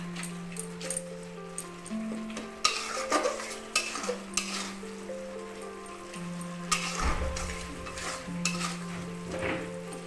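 A pan of fish masala for Puri-style machha mahura is stirred steadily, with repeated scraping strokes over a continuous frying sizzle and soft music underneath, and no one speaking.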